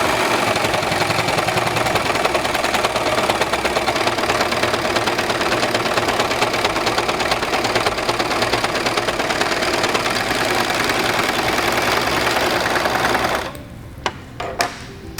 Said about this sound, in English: step on the foot control to start sewing